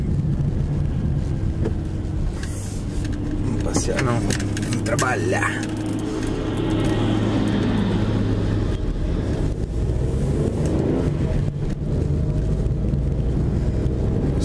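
Steady low road rumble and wind buffeting from inside a moving car on an overcast day, with a person talking over the continuous drone.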